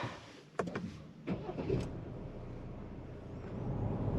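A 2024 VW Amarok BiTurbo pickup starts up: a couple of sharp clicks and a brief cranking burst, then the engine settles into a low, steady idle that builds slightly, heard close and alone.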